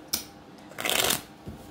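Playing cards riffled and handled during a tongits game, with a sharp snap, a longer crisp shuffling burst in the middle and a softer tap near the end, close by and loud.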